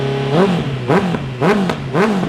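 2019 Honda CB650R inline-four motorcycle, idling smoothly then revved in four quick blips that rise and fall fast, close and fairly loud with no speech.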